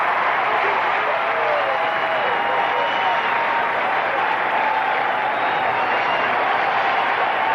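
A steady, dense roar from a baseball stadium crowd at a 1999 Dodgers at Astros game, sustained and unbroken throughout with a faint voice underneath.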